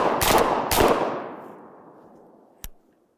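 Two loud 12 gauge semi-auto bullpup shotgun blasts firing number 6 shot ring out close together and leave a long decaying echo, followed by a sharp metallic click.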